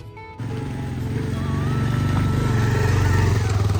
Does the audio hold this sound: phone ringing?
no